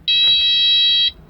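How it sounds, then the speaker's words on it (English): A Kubota SSV75 skid steer gives one loud, steady electronic warning beep at key-on, a sustained piercing tone lasting about a second before cutting off, close and alone. "Cover your ears because it is a loud beep."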